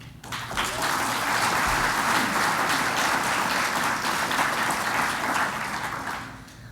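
Sustained applause from a crowd at an awards lunch, swelling quickly to a steady, dense roar of clapping that holds for several seconds before tapering off at the end.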